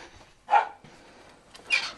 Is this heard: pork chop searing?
no